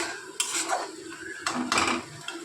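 Masala for a pointed gourd and yogurt curry is sautéed in a pan, with bursts of metal spoon scraping and clattering against the pan over a faint sizzle.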